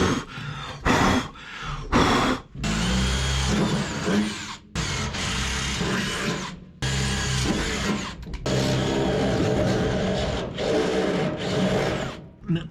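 Power drill boring holes in a 1963 Loadstar truck during restoration work, the motor whining in long sustained runs broken by short pauses and brief bursts, loud and close.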